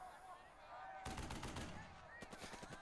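Rapid bursts of gunfire from the Burden of Command video game, loud, dense volleys of shots crackling together, then a run of sharper separate reports toward the end.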